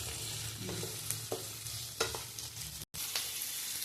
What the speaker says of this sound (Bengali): লো টু মিডিয়াম ফ্লেমে এটাকে ভালো করে স্টার করতে হবে।